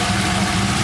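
A 1999 Holden R8 Clubsport V8 with a new cam idles with the idle propped up, a close, loud, steady low throb over a brief stretch.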